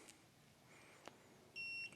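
An LF Bros N4 5kW diesel heater controller gives one short, clear electronic beep in an otherwise quiet setting after a faint click.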